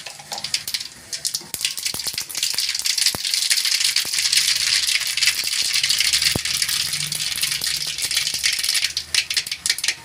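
Mustard seeds spluttering and popping in hot oil, a dense sizzle with sharp crackles scattered throughout, close and steady.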